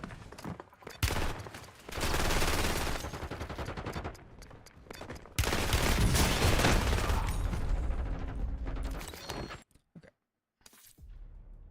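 Dense bursts of rapid gunfire from a competitive battle royale match, loud and sustained in two long volleys with a brief lull between them, dropping almost to silence near the end.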